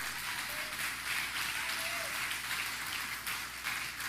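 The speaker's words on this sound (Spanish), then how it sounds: "Dale fuerte el aplauso" A church congregation applauds during a sermon, a steady even wash of many hands clapping that keeps going without a break, with faint voices mixed in.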